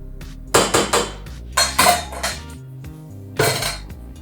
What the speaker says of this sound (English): it's going to take off the attachment. Scrape off any excess